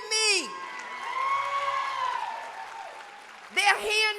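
A graduation audience cheers with whoops and shouts, the crowd noise rising at the start and end and holding as a steady murmur in between, loud and lively.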